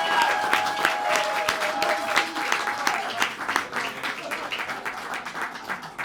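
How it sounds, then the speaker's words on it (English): A live audience at a music session applauds steadily with dense clapping, loud and close throughout and gradually thinning slightly, with a sustained tone ringing under the first half. "Round of applause, big round of applause for Duncan Williams Asset Management"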